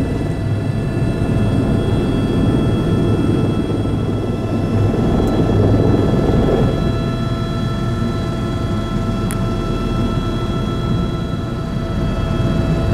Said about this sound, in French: Un hélicoptère qui n'est pas très bruyant.